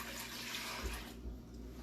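Water is poured steadily for a Jamaican coconut milk dessert, a soft continuous splashing rush that thins out after about a second.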